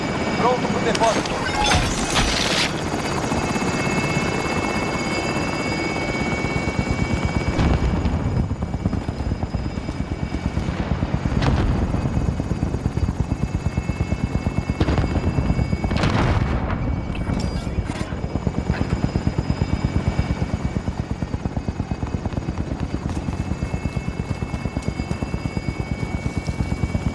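A hovering helicopter in Call of Duty: Modern Warfare drones loud and continuous with a pulsing rotor beat and turbine whine, broken by occasional sharp bursts and radio chatter from the game.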